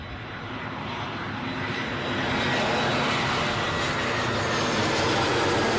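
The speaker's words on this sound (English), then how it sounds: "that Aer Lingus special livery in, A320 inbound from Cork" An Aer Lingus Airbus A320 in special livery, arriving at Heathrow from Cork, produces a dense continuous jet rumble that grows slightly louder and holds steady, with no voices.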